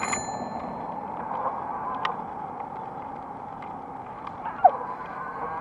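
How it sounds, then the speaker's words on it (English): A bicycle bell on an e-bike gives short, bright dings during a night ride in Orange County, California, heard over a steady wash of road and wind noise. "I ring my bell."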